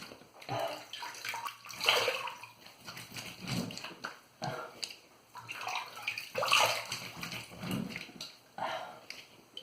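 A face is rinsed after a shave with splashing running water, in repeated bursts of hand-scooped splashes and dripping, close and without talk.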